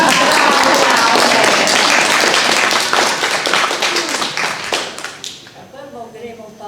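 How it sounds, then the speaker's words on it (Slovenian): A crowd at a community singing gathering in an intergenerational centre in Bistrica, Domžale, gives a burst of full, close applause that thins out after about five seconds as voices begin speaking. "en aplavz, prosim."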